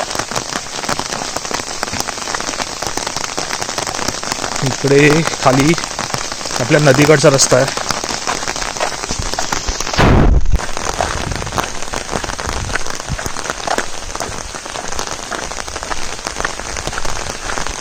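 Monsoon rain pours steadily on a Konkan village where boys play cricket in the wet, a continuous close hiss of drops with someone speaking briefly midway.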